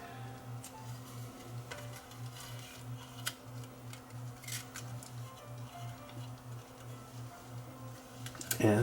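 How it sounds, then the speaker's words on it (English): Tape being threaded on a Grundig TK747 reel-to-reel recorder: a quiet steady rhythmic ticking hum from the machine, faint handling clicks and rustles throughout, then a louder clunk at the end. "So I'll thread the tape up."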